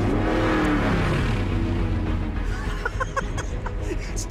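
A Mercedes-Benz G 63 AMG 6x6 drifts across flat desert ground, its engine droning loud and steady with rising revs throughout, tires and gravel scuffing beneath it.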